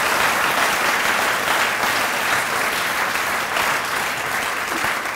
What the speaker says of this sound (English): I'd love to really hear a round of applause for Debbie Bloom and the entire alumni staff.